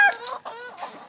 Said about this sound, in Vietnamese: Gà mái cú Peru 50